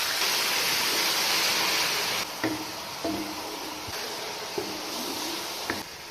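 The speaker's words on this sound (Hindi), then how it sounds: "थोड़ा सा पानी शामिल करेंगे।" Water poured into a pan of frying garlic and ginger masala for beef liver, a loud steady hiss and sizzle that drops after a couple of seconds into quieter bubbling with a few soft knocks.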